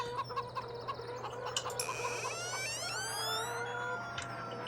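Chickens in the Farming Simulator 17 video game cluck in a quick rhythmic series, then give a longer rising squawk, close and clear over a low steady hum.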